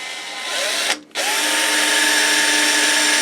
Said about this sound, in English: So I'll just drill a little tiny hole in here.